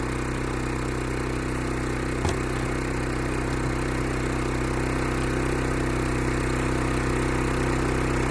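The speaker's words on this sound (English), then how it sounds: "Now that the generator is started, we're going to go ahead and make sure that our exhaust is facing away from our campsite." A portable generator runs at a campsite beside a 2026 inTech Sol Horizon camper trailer, a constant mid-pitched engine drone with a steady hum and one brief click, no voices.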